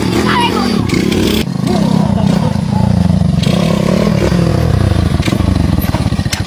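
A loud, rough old motorcycle engine revs and clatters close by, with voices talking over the noise.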